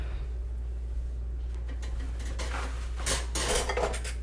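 Metal cake pans for a pistachio cake clatter and scrape as they slide onto an oven rack, a few clear clanks over a steady low kitchen hum.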